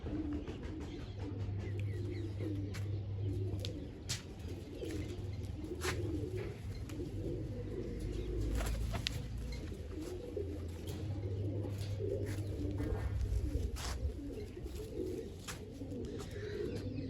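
Large pet pigeons kept by a Punjabi fancier coo steadily in low, repeated throaty calls, with faint chirps and a few wing sounds over a constant background hum; no one speaks.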